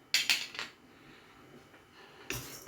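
Fenugreek seeds are tipped into a dry pan for roasting a pickle masala. A few sharp, close metallic clinks and rattles land in a quick cluster, then the pan goes quiet before another brief scrape and clatter.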